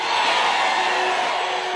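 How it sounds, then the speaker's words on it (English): Crowd of Israelites yelling together at the walls of Jericho, a loud sustained mass shout with whoops, brief and continuous. "Now, everyone, yell!"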